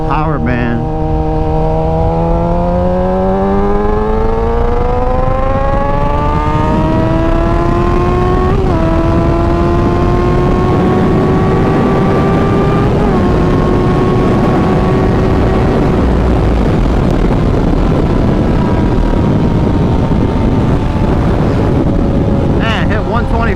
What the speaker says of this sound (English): Let's see if we can't wind these gears out.